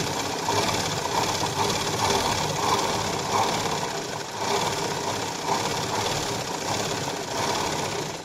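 A sewing machine runs steadily, stitching along the edge of katori blouse fabric, with a continuous whirring motor hum and rapid needle chatter throughout, close and fairly loud with no pauses.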